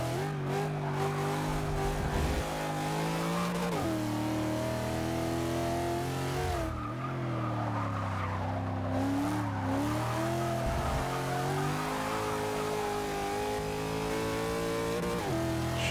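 A 2002 Corvette in Forza 6 races an A-class track event, its engine droning steadily at high revs with rising and falling pitch sweeps through gear changes and corners, loud and continuous throughout with no voices.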